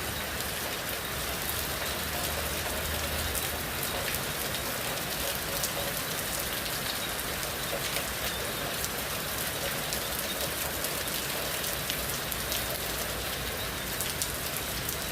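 Steady rain falls continuously, a dense even hiss of drops pattering on surfaces, moderately quiet with no voices.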